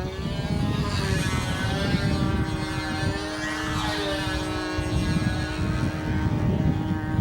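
Tsunami model airplane flying at the 1994 Nats, a steady buzzing engine whine with rising and falling pitch as it circles, moderately loud and continuous throughout.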